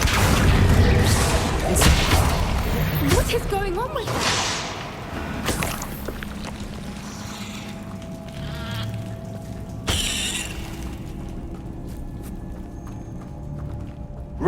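Spell effects in Hogwarts Legacy, where the Accio summoning charm is cast, sound as a loud whooshing crack and a warbling magical swirl, then softer shimmering bursts fading into a quieter hum.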